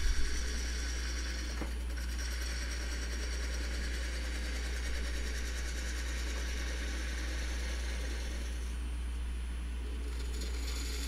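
A wood lathe turns as waste is cut from inside a tenon, producing a faint, steady low motor hum with a light, even cutting texture throughout.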